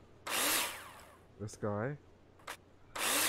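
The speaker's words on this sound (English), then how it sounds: "Take your drill out and screw it in!" Power drill driving screws into plasterboard in the Builder Simulator video game, heard as two loud whirring bursts, one at the start and one at the end, with a brief spoken question between them.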